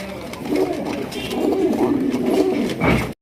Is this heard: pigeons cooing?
yes